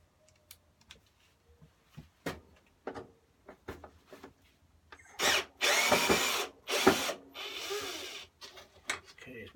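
A power drill with a screw bit drives screws during a restoration of an Atco Admiral 16 lawn mower, short isolated bursts and clicks at first, then several longer loud whirring runs close by.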